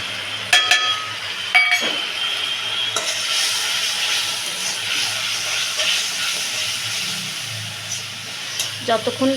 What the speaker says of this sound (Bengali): ততক্ষণ পর্যন্ত নাড়তে থাকবো যতক্ষণ না মশলা থেকে তেল ছাড়বে।